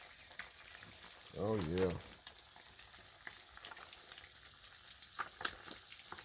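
Crappie fish and potato fry in a pan on a Coleman camp stove, a faint continuous crackling sizzle with small pops, briefly interrupted by a short spoken remark.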